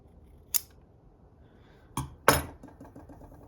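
Shears cutting a taper on a leather lace: a single sharp snip, then two more crisp cuts close together with a short metallic rattle after, close and fairly quiet.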